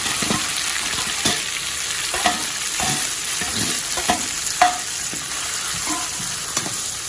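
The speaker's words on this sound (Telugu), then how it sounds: "ఉల్లిపాయలు వేసి బ్రౌన్ కవర్ చేయండి అప్పుడే మిరపకాయలు టమాటాలు ఒకేసారి వేసుకోండి" Onions, chillies and tomatoes sizzle steadily in hot oil for mutton curry, with recurring scrapes and stirs of a spoon against the pan, close and continuous.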